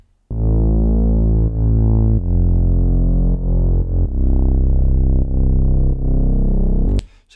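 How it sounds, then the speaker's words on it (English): A thick synth bass built in Serum from two Moog-style saw waves plays sustained distorted notes, changing pitch every second or so, loud and alone, with a short noisy hit at the very end. "We've then got the bass. It's made in Serum and sounds like this."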